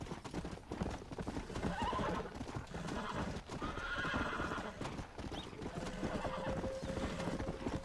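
A horse in the video game Red Dead Redemption, a Hungarian half-breed, gallops with continuous clip-clopping hooves and whinnies over the steady rush of movement, loud and close throughout.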